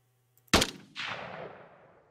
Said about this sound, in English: why would I ever shoot these zombies?